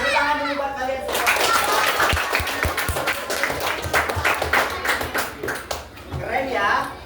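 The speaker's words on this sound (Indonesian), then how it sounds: "Tepuk tangan dulu buat kalian semua" Children clap their hands together in a classroom, a burst of steady group clapping that runs for several seconds, with an adult voice and kids talking over it.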